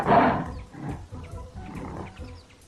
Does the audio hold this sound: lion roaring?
yes